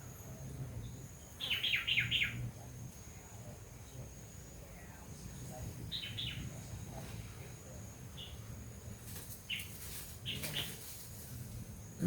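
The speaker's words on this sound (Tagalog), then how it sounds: "Mga ibon." Birds call in a forest in a few short, high chirping bursts, some near and some farther off, over a steady low outdoor rumble and faint insect hiss.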